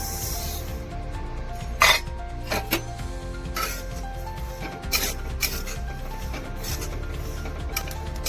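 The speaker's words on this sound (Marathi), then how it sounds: "आपण आता बडीशोप भाजूया." Fennel seeds are dry roasted in a pan on low heat, with soft rustling and scraping as they are stirred, broken by a few sharper clinks of the spoon against the pan.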